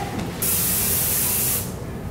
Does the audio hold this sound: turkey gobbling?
no